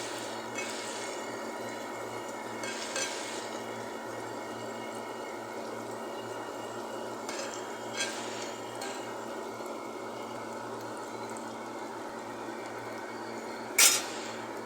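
Spiced chicken liver curry with turmeric and chili powder cooks in a pan, giving a soft, steady bubbling hiss with a few faint pan clinks and one louder clatter near the end.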